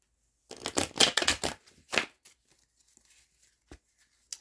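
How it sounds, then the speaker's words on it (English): Tarot deck being shuffled by hand, a quick run of crisp papery riffles and slaps lasting about a second and a half, then a single short burst, close and fairly quiet with no talk. "let me get this deck another shuffle or two"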